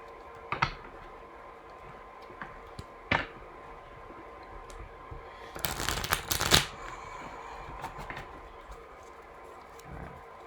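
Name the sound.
shuffling a tarot card deck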